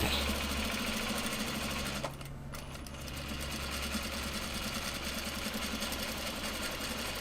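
A sewing machine runs steadily, top stitching a Japanese fabric mini traveller sling, with a continuous close mechanical whir and a brief dip partway through, no talking.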